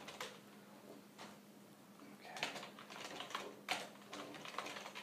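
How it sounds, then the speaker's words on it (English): Typing on an unusual computer keyboard during a game development session, with irregular clusters of soft key clicks over a low steady hum, fairly faint and close. "I hear you typing on my weird keyboard."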